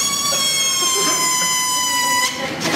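A balloon imitates a police siren with a high, wavering squeal, continuous and loud, with a rising and falling pitch that breaks off near the end.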